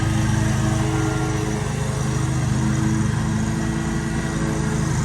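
A lawn mower runs steadily and loudly close by while mowing a garden lawn, its engine drone continuous and unbroken with no voices.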